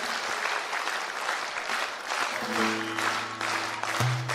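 Applause from a concert audience at a solo concert: dense, steady clapping from a large crowd fills the whole clip at even loudness, with a faint sustained musical tone entering near the end.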